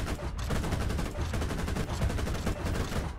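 Aircraft machine guns firing during a War Thunder simulator air battle, a dense, continuous rattling roar of rapid shots at steady loudness throughout, with no talking.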